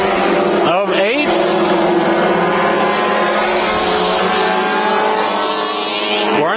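Mini stock race cars roar around the Bakersfield Speedway oval during a heat race, engines loud and sustained with pitch sweeps as cars pass close by, a dense continuous drone of several motors together.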